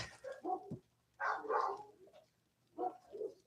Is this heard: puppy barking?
yes